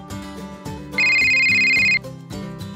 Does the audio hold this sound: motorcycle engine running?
no